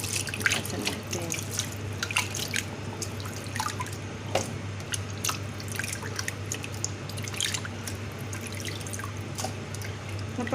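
Frozen calamari rinsed under a running kitchen tap, with water splashing and dripping in irregular bursts over a steady faint trickle, fairly quiet and close.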